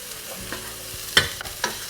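Potato chickpea chaat being stirred in a pan with the heat switched off, giving several scraping, clattering stirs with soft background sizzle, close and fairly loud, with no talking.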